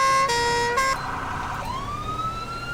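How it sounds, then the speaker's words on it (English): A police siren in GTA V switches from a rapid yelp into a steady two-tone wail, shifting pitch partway through, loud and close with no talk. "the other thing I keep forgetting to do is two-tone. Dual siren"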